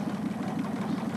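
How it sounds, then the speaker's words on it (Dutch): Rover Meteor tank engine fitted in a pulling tractor at an indoor tractor-pulling event in the IJsselhallen, Zwolle, giving a steady, loud low-pitched rumble with an even pulsing throb throughout. "Want het is een motor uit een Rover Meteor tank."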